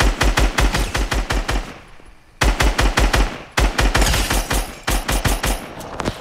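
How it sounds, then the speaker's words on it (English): Drum gun fired in Fortnite, loud and rapid automatic bursts of close gunfire, first a long burst, a brief pause, then two more sustained volleys with no talking. "I gotta finish him off with the drum gun"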